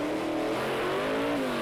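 A 1970 Dodge engine revs hard at a drag race start, holding a high, droning pitch that climbs slightly, loud and close, with no other sounds.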